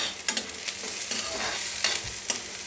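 Three red chillies sizzle in hot oil in a pan for egg curry, a steady frying hiss broken by soft stirring scrapes and small pops, close and moderately loud, with no talking.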